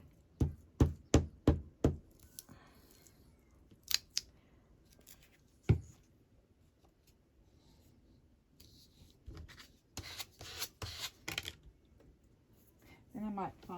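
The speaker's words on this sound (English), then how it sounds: "I'm just going to snip off that bit because that won't fit in the thing" Scissors snip paper cut from a magazine page for a collage sheet: a quick run of crisp, close cuts, then scattered single snips and rustling paper, with quiet talk in between.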